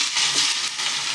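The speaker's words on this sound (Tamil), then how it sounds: "நல்லா இந்த மாதிரி எண்ணெயில் சிக்கன் போட்டு நல்லா கிண்டி விடுங்க, வேகட்டும்." Chicken pieces, marinated with turmeric and salt, fry in about 200 ml of hot oil while being stirred, giving a steady, close, bright sizzle with small crackles and no voices.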